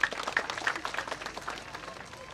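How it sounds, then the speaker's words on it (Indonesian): A crowd at a Tabanan, Bali community festival breaks into applause, a dense patter of many hands clapping at once, moderately loud and sustained, with some voices mixed in. "luar biasa, tepuk tangan dulu."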